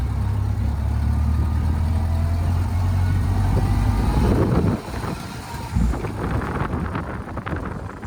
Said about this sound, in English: Sophie's gonna drag race the Model A. She's just learning how to double clutch today.